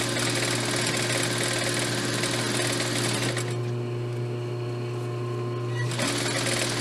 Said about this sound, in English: Now we're going to sew the band to the bottom of our skirt.